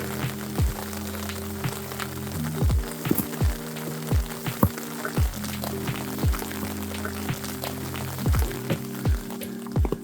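Rain falls on a mountain trail on the Shrikhand Mahadev Yatra trek between Barati Nala and Thach, with a steady wet patter and scattered close drips. A sustained low tonal hum runs underneath throughout.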